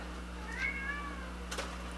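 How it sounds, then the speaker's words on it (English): A house cat gives a single drawn-out meow, close and fairly soft, in a quiet room with a steady low hum underneath and no talking. "that's my daughter's cat"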